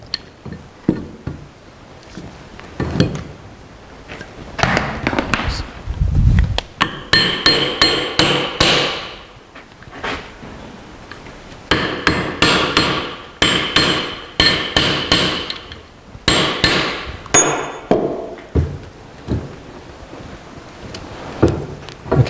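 A metal hammer repeatedly strikes final drive gear components in bursts of sharp metallic clanks, some loose and rapid, others spaced, with short pauses between runs of blows; close and fairly loud.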